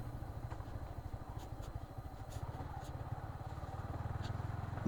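A motorbike rides slowly over a badly broken road in Bangladesh, its engine a low, steady pulsing rumble heard fairly faint and continuous throughout.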